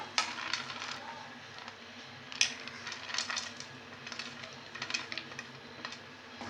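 Cashews and raisins drop into a pan of thick, halwa-like rava kesari, which is then stirred, giving a quiet stream of small clinks, rattles and scraping taps against the metal, close by and uneven in rhythm.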